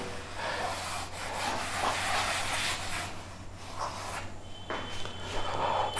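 Writing is being wiped off a lecture board in a classroom: a steady, hissy rubbing in long strokes that pauses briefly between passes, fairly close, with no speech.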